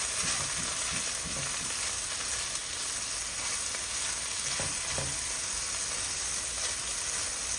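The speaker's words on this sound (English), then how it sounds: "There's breakfast sausage. You keep that fire low and you slow cook this." Breakfast sausage fries slowly over low heat in a 9x9 cast iron pan, giving a steady, close sizzle with occasional faint pops and no talk.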